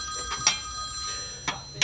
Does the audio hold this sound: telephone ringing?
yes